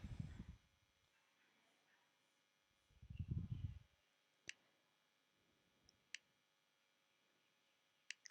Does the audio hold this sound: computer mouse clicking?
yes